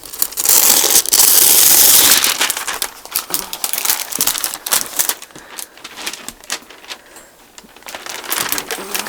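Paper being handled and crinkled at a crafting table for a Stamperia Roses and Lace project: close, loud rustling at first, then a run of sharp crinkles and crackles that fade and return.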